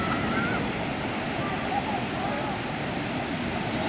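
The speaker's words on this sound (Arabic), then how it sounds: "الموج عالي من الاول، يعني من البدايه خالص" High sea waves at Ras El Bar beach in the early morning make a constant, loud roar of surf, with wind buffeting the microphone and no distinct breaks in the wash.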